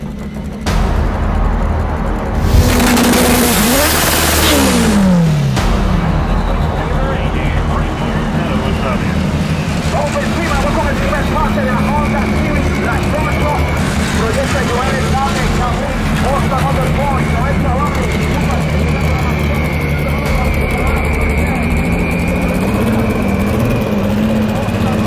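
A Honda Civic SFWD race car with a FuelTech FT600 rumbles and revs loudly, engine pitch rising and falling over a long idle, with an announcer talking over it.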